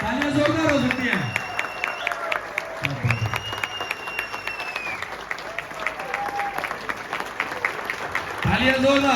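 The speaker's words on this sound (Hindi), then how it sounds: "तालियां जोरदार हो सकती हैं।" Audience applause at an indoor training session, steady dense clapping from a crowd throughout, with a brief voice and a music swell near the start and end.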